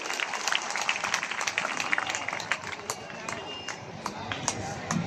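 Crowd applause at an outdoor night show program at Bohra Kalipith Sthan, a dense, steady wash of clapping from a large gathering, loud and continuous throughout with scattered sharper claps.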